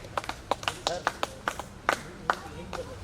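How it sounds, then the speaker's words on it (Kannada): An audience at a Kannada folk arts stage show claps for the performers, a scattered run of sharp, fairly close handclaps heard amid talk. "ಜೋರಾದ ಚಪ್ಪಾಳೆ ಮೂಲಕವಾಗಿ ಕಲಾವಿದರಿಗೆ"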